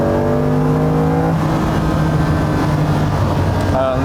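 A Ferrari 365 GTB/4 Daytona engine revs close and loud, a rising harmonic note that falls back into a rough, steady rumble before a short second blip at the end.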